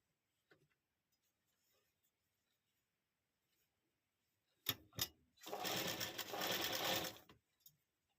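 Sewing machine stitching a dori design in tailoring work, a couple of quick short bursts followed by a sustained steady run of about two seconds, fairly close, with faint handling clicks around it.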